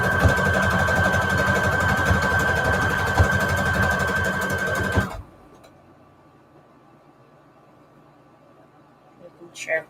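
A sewing machine stitches fabric scraps and lace with a dense, steady mechanical whir for about five seconds, then stops abruptly, leaving near silence before a few faint handling noises at the end.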